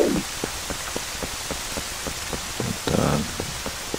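Steady rain falls in the video game Zelda: Twilight Princess, a constant hiss of drops with scattered sharper patters and a brief heavier swell, no voices over it.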